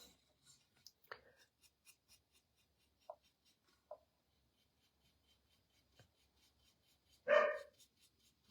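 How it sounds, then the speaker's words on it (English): Dogs bark a single short time in a quiet room where bisque ceramics are being painted, with faint brush and scratching sounds before it. "Oh my gosh, these dogs."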